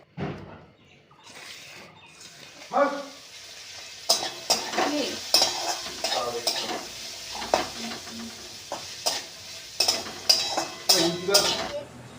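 Potatoes and beans stirred and frying in a home kitchen pan, with scraping spoon strokes, clinks of utensil against pan and a light sizzle, alongside other kitchen clatter and some intermittent talk.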